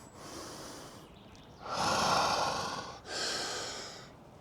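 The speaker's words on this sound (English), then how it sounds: "Breathe in." Close, audible breaths during a breathing exercise in a low-impact cardio workout: a sniffing intake, then two strong breathy draws through the nose in succession, with no talking.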